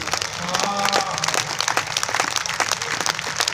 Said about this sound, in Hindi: भाई तालियां बजाते रहिएगा